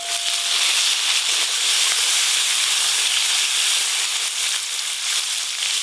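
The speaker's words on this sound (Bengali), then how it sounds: "তেল বেশ ভালো করে গরম হয়ে গেছে, কাঁকড়াগুলো একদম মচমচে করে ভেজে নেব।" Crabs frying until crisp in hot oil give a steady, loud, continuous sizzle and hiss with no break and no voices.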